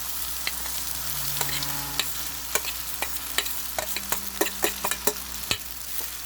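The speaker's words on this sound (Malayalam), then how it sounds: "ഇനി നമുക്ക് ചോറ് അതിലേക്ക് ഇട്ട് കൊടുക്കാം" Rice goes into a pan of frying tomato mixture and is stirred, bringing steady sizzling with a run of sharp spoon scrapes and clinks against the pan, close and fairly loud, with no talking.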